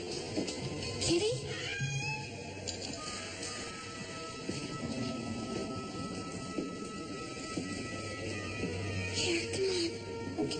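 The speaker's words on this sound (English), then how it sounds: "And then I followed Jen's cat" A cat meows a few times amid steady background noise and faint scattered sounds, with some indistinct voice mixed in; the calls are moderate in level and not clearly separated.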